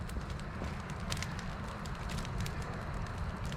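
Campfire burning at a motorcycle campsite, a steady dense crackle with scattered sharp pops over a low rumbling roar, close and continuous throughout.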